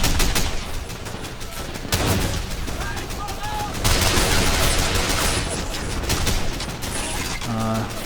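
Soldiers fire through apartment windows in the Men of War game, a steady barrage of rifle and machine-gun fire with heavier booms, loud and continuous throughout.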